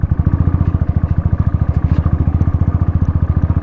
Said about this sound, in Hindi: जिसको ऑक्सीजन की प्रॉब्लम है ना वो फर्स्ट गियर में नहीं बाइक चढ़ रही।